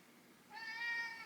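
A house cat gives a single, thin, high meow that rises out of quiet background noise and holds for under a second, faint and alone, with no talk over it.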